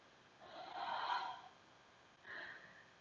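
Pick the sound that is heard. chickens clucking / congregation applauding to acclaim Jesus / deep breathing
deep breathing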